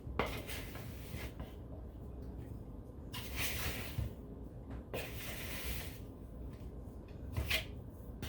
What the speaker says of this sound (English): I'm just gonna give it a little stir.